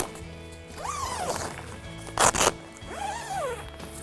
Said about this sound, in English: You can unzip the other side as well.